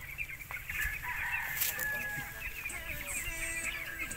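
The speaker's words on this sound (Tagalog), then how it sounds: "ang dami yung mga alagang manok" Chickens and roosters, including gamecocks kept for breeding, cluck and crow in a farmyard, several birds calling close by over a low background murmur.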